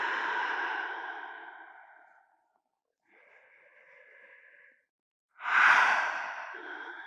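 Slow, deep exhales through the nose and mouth during a bedtime yoga session: a long breath out, a softer, quieter one after a pause, then a strong full exhale, all close and without talk.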